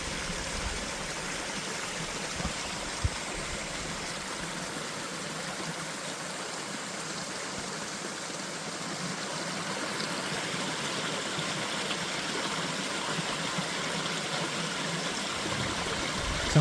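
A small waterfall spills into a pool in a mountain valley stream at Hwaaksan, near Miryang and Cheongdo. Water rushes and splashes in a continuous, fairly loud roar that stays steady throughout, with no talk.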